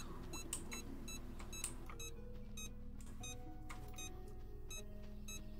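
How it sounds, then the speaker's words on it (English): Quiet beeping from a chest detector in the video game Supraland, evenly spaced electronic tones that repeat over a soft low hum. "So is it just beeping for the chest in this room?"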